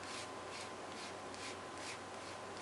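Ink is rubbed into the open spaces of a paper mask during a stamping craft, a soft, continuous, close scratchy rubbing with faint repeated strokes.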